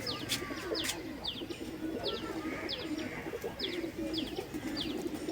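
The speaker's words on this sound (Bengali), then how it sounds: "টেডি মাদি কবুতর" Soft cooing of Teddy pigeons rumbles low and steadily, with a bird's sharp chirps repeating about every half second above it.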